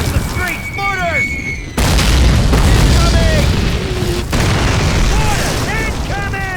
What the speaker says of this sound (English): Mortars! Incoming!